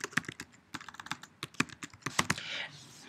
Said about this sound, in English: I'm going to go ahead and type Example Assessment.